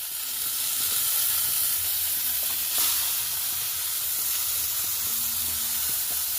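Steady, loud sizzling and hissing from prawn paturi parcels wrapped in bottle gourd leaves frying in a hot pan, with a few faint clicks underneath.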